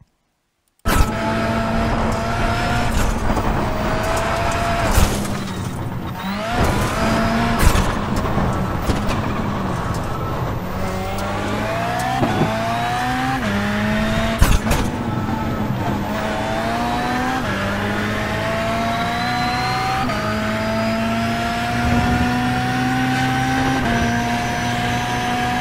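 A VW Beetle Lite rallycross car laps Daytona in iRacing, its engine revving loud and continuous with rising and falling gear changes and occasional tire noise, sustained throughout with no talking.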